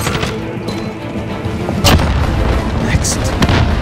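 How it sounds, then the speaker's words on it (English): A grenade blows up in Call of Duty: Modern Warfare (2019) on PS5 with a loud, deep boom midway. Sustained, heavy gunfire and battle noise fill the rest of the clip. "Throwing grenade!"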